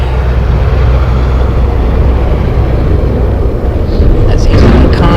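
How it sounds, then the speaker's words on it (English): Noisy passing road traffic heard from a parked spot, a loud, continuous low rumble of vehicles that swells and rolls by throughout. "Oh, a lot of noisy traffic today."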